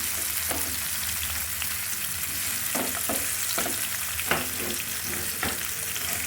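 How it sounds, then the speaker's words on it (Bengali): Chopped garlic sizzling steadily in a hot pan, a continuous loud frying crackle with occasional stirring scrapes and clinks, no voices. "এবার একটু ভেজে নেবেন সুন্দর করে"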